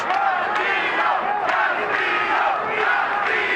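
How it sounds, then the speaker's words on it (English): Boxing arena crowd at the MGM Grand during a championship fight, a dense roar with rhythmic chanting of a fighter's name repeating in regular pulses, loud and continuous. "Crowd is chanting, Castillo, Castillo."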